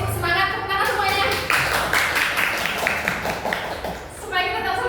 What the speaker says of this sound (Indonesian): Ayo semangat, tepuk tangan semuanya.